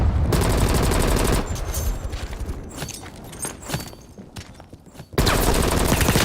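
Bursts of rapid automatic gunfire in the video game Call of Duty: Black Ops Cold War, loud and close, cutting off and then pausing before a fresh barrage, with scattered shots and game effects between them.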